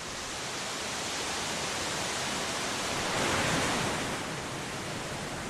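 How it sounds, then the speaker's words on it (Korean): Guryong Falls at Mount Geumgang, a broad continuous roar of cascading water and spray, steady and enveloping throughout with a slight swell near the end. "물보라가 번질 때면 용이 승천하는 것 같다는 구룡폭포는"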